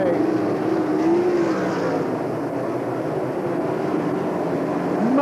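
USAC sprint cars race at Eldora Speedway in 1997, a sustained roaring drone of engines circling the dirt track, with a faint pitch sweep as cars pass, under continuous race commentary.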